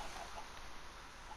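Chickens in the Minecraft video game clucking softly over a faint background hum, with a few short, quiet clucks and no talking.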